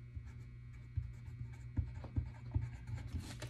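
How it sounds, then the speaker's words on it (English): A pen scratches out a name on paper while making a Valentine heart craft, with soft, uneven strokes in a quiet room over a faint steady mains hum. "you write their name inside of it"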